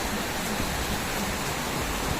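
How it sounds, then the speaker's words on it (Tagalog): Rain falls steadily outdoors at a street-side stall on New Year's, making a continuous, even hiss with no voices. "Ngayon, umuulan."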